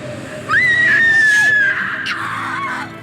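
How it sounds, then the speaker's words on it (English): A woman in a vampire film scene lets out a loud, sustained high-pitched scream lasting about a second, then trails into a fainter wavering cry and whimper. "Blowing on her face makes her scream?"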